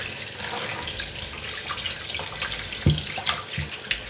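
Tap water runs steadily into a bowl of salt cod being rinsed for ackee and saltfish, a continuous splashing hiss with a couple of brief thuds, close and alone without talk.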